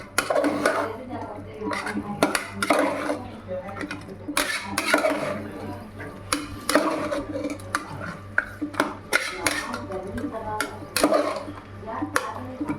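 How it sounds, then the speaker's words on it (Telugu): Mutton semiya biryani being stirred in a pot, with repeated metallic scrapes and clinks of a spoon against the pot in an irregular rhythm, close and moderately loud, with faint background voices. "చూసారా బాగా మటన్ వేసాం కదా, ఒకసారి కలుపుకుందాం."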